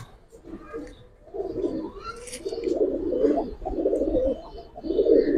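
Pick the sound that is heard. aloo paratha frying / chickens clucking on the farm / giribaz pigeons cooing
giribaz pigeons cooing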